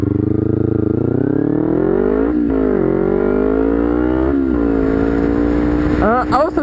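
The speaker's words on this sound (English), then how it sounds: "I also don't know why I accelerate so fast." Car engine revving hard as it accelerates on a road, a loud steady rising drone that climbs in pitch through several gear pulls, close and continuous.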